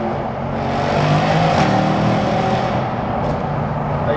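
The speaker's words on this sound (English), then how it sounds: "There's the downshift as well. It is the downshift. It just sings." A Mercedes C63 AMG Black Series with a naturally aspirated engine downshifts while driving through a tunnel, a loud sustained engine roar that swells and rises in pitch, heard close with no talking.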